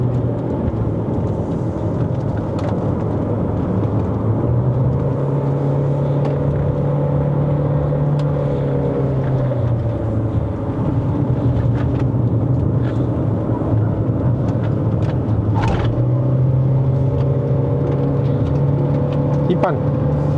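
A Chery Tiggo Cross 1.5 HEV climbing a steep uphill road at half throttle, its engine droning in a low, steady hum that shifts pitch as it pulls, with a driver talking over it inside the cabin.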